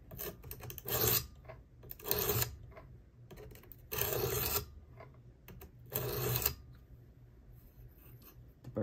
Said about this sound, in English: This is the tedious part, it's just going back and forth.